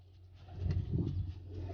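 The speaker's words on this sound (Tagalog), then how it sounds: "Lain kalapati guys." Low, soft cooing of pigeons on a desert farm swelling in the middle, with a steady low hum running underneath.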